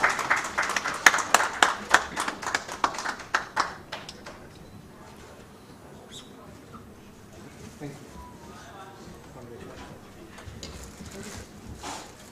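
Clapping at an MoU exchange ceremony welcome, a short burst of fairly faint hand claps in the first few seconds, then fading into quiet room noise with scattered taps.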